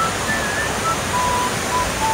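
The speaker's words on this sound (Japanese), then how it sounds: "お水の音してるな" Water of a canal beside a path near Keage Incline and Nanzen-ji in Kyoto, flowing as a steady, even rush of broadband noise throughout with no talk.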